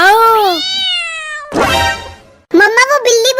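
A cat meows in a home comedy sketch, asking to be fed: a loud, close, drawn-out meow, then a pause, then a burst of several shorter meows, with a strong and clear voice that may be imitating it.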